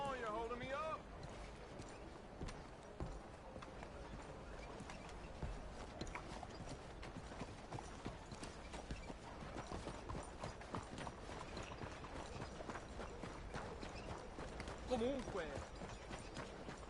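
Horse hooves gallop steadily in Red Dead Redemption 2 under continuous in-game noise, with voices talking over the fast clip-clop rhythm throughout.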